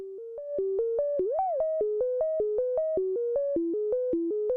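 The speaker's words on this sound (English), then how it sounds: "Because the filter can self-oscillate, we are able to play it" A Moog Grandmother synthesizer's self-oscillating filter is played as notes. It gives a pure, sine-like tone that steps through a quick repeating melodic pattern with one gliding bend, clean and steady, and no talking.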